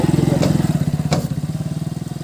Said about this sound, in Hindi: वो वहाँ पर मेरा बाइक भी साउंड सुन रहे हो आप लोग